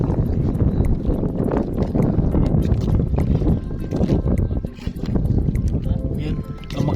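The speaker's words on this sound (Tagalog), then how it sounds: "Lumakas yung hangin." Strong, gusty wind with rain buffets the microphone in loud roaring bursts while fishing at Anda, Bohol, with splashes and clattering mixed in and voices talking now and then.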